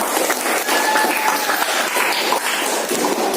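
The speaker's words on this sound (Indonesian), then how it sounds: "Tepuk tangan untuk Petra." Brief classroom applause for a student, a continuous rush of clapping hands at moderate loudness, with some voices mixed in.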